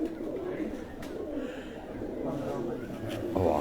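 Breeder pigeons coo in a loft setup, soft low repeated calls close by, with someone talking over them for most of the time.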